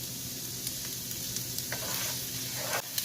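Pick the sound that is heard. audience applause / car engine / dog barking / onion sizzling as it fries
onion sizzling as it fries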